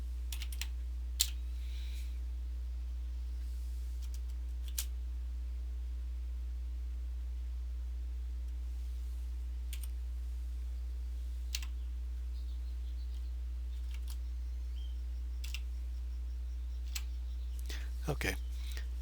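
Sparse computer keyboard key presses and mouse clicks, a few isolated sharp taps spread over a steady low electrical hum, with a quick cluster of clicks near the end; no other activity.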